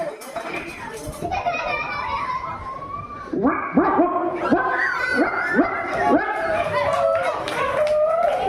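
Several voices mimic dog barks in a quick series of short yelps during a school inter-house cultural competition, with children's chatter and crowd noise around them.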